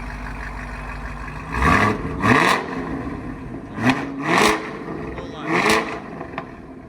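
A Chevy Camaro ZL1 with a $2,000 aftermarket exhaust is revved in several short bursts, loud and close, with the engine note rising and falling between blips over a steady idle rumble.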